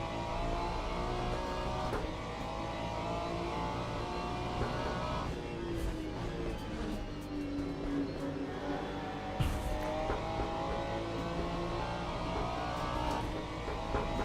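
Race cars in the sim racing game Le Mans Ultimate, a continuous layered engine drone with shifting pitch sweeps and occasional passing whooshes, steady and moderately loud throughout.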